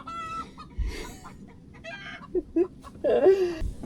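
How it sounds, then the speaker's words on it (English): A hen on an off-grid homestead clucks in short, close bursts, a few quick repeated clucks rising toward the end over a quiet background. "There's this one chicken who you saw. Every day she comes to lay her egg in my toilet."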